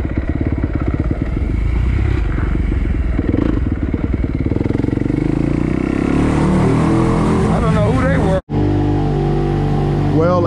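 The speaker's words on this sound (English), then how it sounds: "As you can see, I got the bike cranked up." Kawasaki KX250 dirt bike engine running loud and close, a buzzing two-stroke drone that shifts into higher revving whines near the end, with a brief cut and a voice talking.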